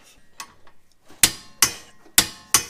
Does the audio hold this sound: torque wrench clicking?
yes